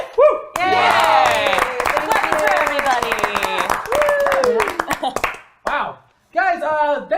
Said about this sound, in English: Clapping for everybody